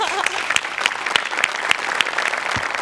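A studio audience on a Marathi comedy show claps loudly and steadily, a dense close-miked applause with a few audible individual claps standing out.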